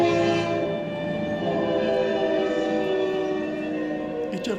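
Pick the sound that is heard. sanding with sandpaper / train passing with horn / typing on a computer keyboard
train passing with horn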